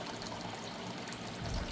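Dehumidifier water splashes and trickles steadily as it is dumped into a pond feeding a grow setup, a faint, continuous pour with a slightly louder gush at the end.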